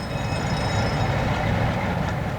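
A Freightliner container train runs along the rails, a steady loud rumble of wheels and wagons with faint clatter, continuous and close throughout.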